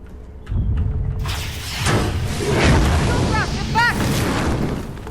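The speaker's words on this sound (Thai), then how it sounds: "ระเบิด เป็นไฟเลยครับ" A booming explosion followed by roaring fire in Call of Duty Modern Warfare, loud and rumbling, with crackling bursts and brief whistling sounds on top while someone talks over it.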